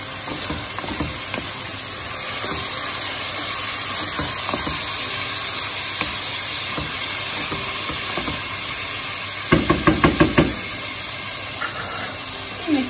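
Chopped tomatoes sautéing in a pan for an okra dish, a steady close sizzle and hiss with a few scraping stirs of a utensil toward the end, no talk.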